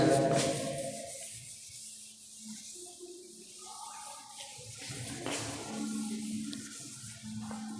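A classroom board being wiped clean during a chemistry lesson, steady scrubbing and rubbing strokes close by, continuous with slight rises and falls in intensity.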